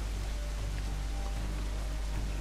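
Steady rain hiss in Assassin's Creed IV Black Flag, an even wash of falling drops over a low rumble, continuous and fairly loud without pauses.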